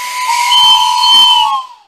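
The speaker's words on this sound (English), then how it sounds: "There's the noon whistle." A factory noon whistle blows in an old-time radio drama of R.U.R. Rossum's Universal Robots, one loud, sustained steamy tone that holds steady, then fades out at the end.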